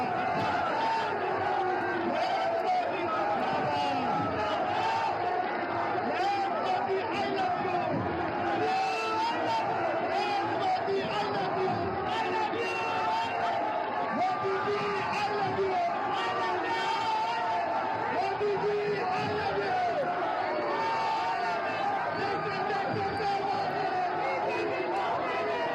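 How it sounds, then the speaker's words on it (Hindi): A large crowd at a Modi road show in Jabalpur roars continuously with cheering and rhythmic chanting, dense and loud from start to finish, with a reporter's voice running over the noise. "देखिए तालियों की आवाज़ सुनाई दे रही है, मोदी मोदी के नारे की आवाज़ सुनाई दे रही है।"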